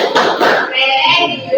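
Group of people doing a rhythmic Tepuk PPK clap chant at an Indonesian school coaching session, loud close hand claps in a quick patterned rhythm with voices mixed in.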